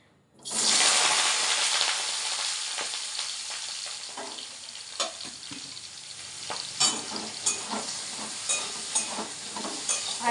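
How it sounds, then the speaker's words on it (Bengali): Fenugreek (methi) leaves hit a hot pan with a loud burst of sizzling that settles into a steady fry, broken by intermittent scrapes and stirring knocks. "ভাজা ভাজা করব মেথি শাক"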